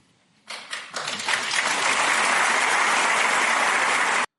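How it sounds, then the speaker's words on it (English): An audience applauds after a speech invoking the Canadian anthem and the true North, the clapping rising in uneven waves over the first second and then holding as a loud, steady wash of many hands until it cuts off. "Took a minute for them to applaud, it felt like."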